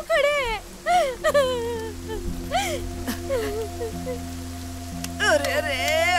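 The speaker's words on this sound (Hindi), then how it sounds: "पापा आप इस तरह तूफानी बारिश में क्यों खड़े हैं?" Heavy stormy rain falls at night in a steady, dense hiss that runs under several people speaking.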